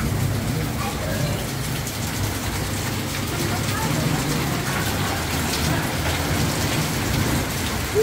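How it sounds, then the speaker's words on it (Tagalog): Heavy rain pours down steadily for the whole stretch, a dense, loud hiss of water on surfaces with no break and no other clear sound above it. "bigla pong bumuhos ang ulan"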